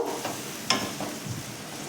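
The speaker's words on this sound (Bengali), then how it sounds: "সেই স্টকটা দিলাম দিয়ে এটাকে একটু ভালো করে কষবো" Minced meat keema cooking in a pan with added stock, soft wet sizzling and stirring scrapes with a few sharper clinks, fairly quiet and close.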